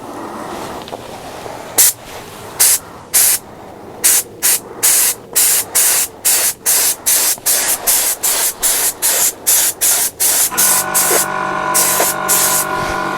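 Spray gun applying a base colour coat to Yamaha Fazer 600 motorcycle parts, heard as a series of short, regular hissing bursts that grow longer and closer together, ending in a steady hiss with a low hum beneath.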